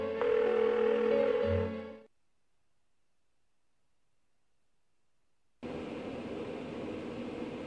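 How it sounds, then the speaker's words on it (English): A phone call in the video game Persona 4 rings unanswered: a steady electronic tone lasts about two seconds, then silence, then a flat background hiss returns. "Why won't she pick up the phone?"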